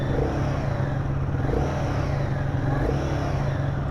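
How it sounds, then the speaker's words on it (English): Royal Enfield Guerrilla 450 motorcycle with its 450 cc Sherpa engine, heard close and loud, a steady running rumble with light revving swells throughout, no voices. "when I'm trying to rev the motorcycle, it is a little bit refined than the Sherpa that was on the Himalayan"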